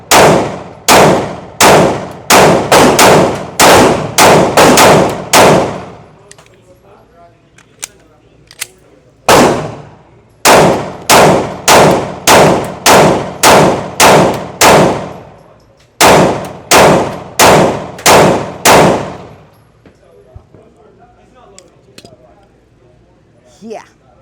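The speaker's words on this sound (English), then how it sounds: "So let's speed up the shots a little bit." Smith & Wesson M&P Shield X pistol fired at a range in three quick strings of sharp, loud, closely spaced shots, each ringing out with a metallic echo, separated by short pauses.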